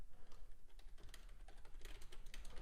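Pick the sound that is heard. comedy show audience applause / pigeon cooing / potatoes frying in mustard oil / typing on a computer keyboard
typing on a computer keyboard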